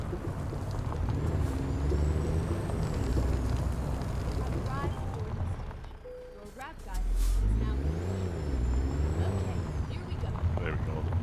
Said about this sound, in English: Parking brake actually worked this time.